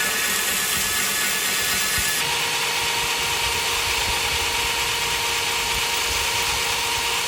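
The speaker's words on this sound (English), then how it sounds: "finishing the shaping and matching of each segment on the belt grinder here" A belt grinder shapes segments of knife handle scales with a loud, constant motor drone and abrasive rasp, the pitch and texture shifting slightly as the workpiece is pressed against the belt.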